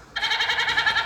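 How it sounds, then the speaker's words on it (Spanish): A goat bleats as a sound effect in an App Inventor sound-box app. It is a single loud, wavering, nasal cry that starts abruptly and holds steadily for about a second, close and on its own. "una cabra"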